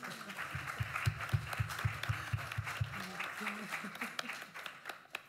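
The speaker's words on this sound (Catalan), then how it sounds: "Un fort aplaudiment, per favor." An audience applauds at a poetry recital and translation slam in Barcelona, a close, quick run of claps that thins out, with some background voices mixed in.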